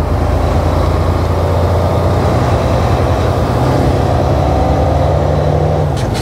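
A tractor trailer truck with a 13-speed transmission accelerates through its gears, a loud, steady, close engine drone with rising and falling pitch and no speech over it.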